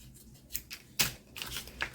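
Paper for a double-sided craft tag is cut in a few short, close snips and rustles, one sharper cut standing out midway, with no talking.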